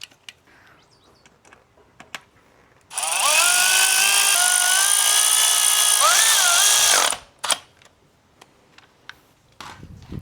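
A powered driver whirs for about four seconds, loud and close, as it runs in the 10mm coil pack bolts on a right-hand-drive 2014 Lexus IS250 engine. The pitch shifts slightly, and faint clicks and taps come before and after.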